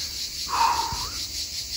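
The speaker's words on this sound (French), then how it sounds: "Là, on s'entend plus avec les cigales," Cicadas drone in hot weather, a continuous high buzzing hiss filling the air steadily, with a brief swelling note partway through.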